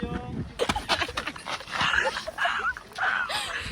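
A dog whimpers and gives a few short yips and barks at close range, in uneven bursts.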